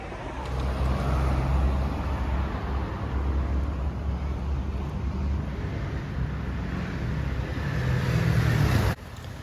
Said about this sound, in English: Traffic is not too bad today, but normally this highway it could be very congested